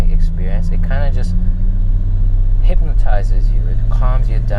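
Steady low engine drone from a BMW E34 M5 while driving, a constant deep hum with shifting tones running under intermittent talking from the driver.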